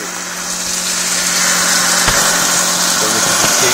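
A tap-water-powered turbine generator runs at night with a loud, steady whirring and rushing hum that holds constant throughout, close by, with a faint click partway through.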